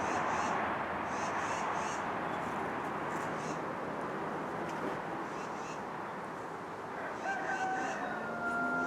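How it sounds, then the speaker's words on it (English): A rooster crows faintly in the distance a few times at Anawan Rock, drawn-out calls over a steady outdoor background hum. "That rooster."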